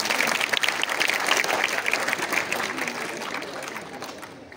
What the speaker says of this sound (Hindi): जोरदार तालियों से स्वागत करिए क्षितिज सर का